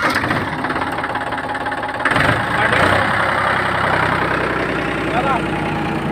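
A Farmtrac 39 tractor engine runs steadily and loudly throughout, with a rough, knocking idle that briefly swells in the middle, and no talk over it.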